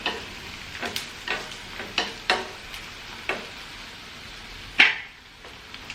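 A spoon scrapes and taps through chicken liver and gizzard sizzling in a pan with dhania powder, giving a soft frying hiss broken by a series of sharp, regular stirring clicks close by.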